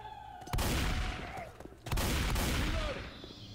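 Two loud, sharp gun blasts in Left 4 Dead 2, each ringing out with a long booming tail about a second apart, with no talk over them.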